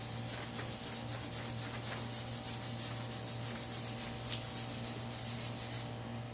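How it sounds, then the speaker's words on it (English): Steady, faint, repeated rubbing strokes on transfer tape pressing a vinyl decal onto a surface, a soft even scraping rhythm over constant background hum. "You just rub the edge, and as soon as the transfer tape grabs it, the rest will follow."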